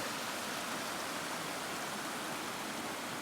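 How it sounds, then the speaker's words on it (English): River flowing beside a trail in Scotland during rain, a dense, steady broadband rush of water that is loud and continuous, with no talk or other sounds above it. "Following this gorgeous river."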